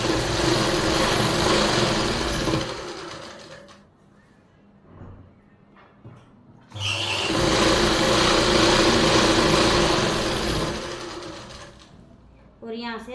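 An electric sewing machine stitches the lining of a palazzo pant at a boutique, running in long steady buzzing bursts with a short pause in the middle while someone talks.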